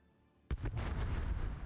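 A heavy naval gun salvo in World of Warships erupts suddenly after a quiet moment, a loud boom that swells into a sustained rumbling roar.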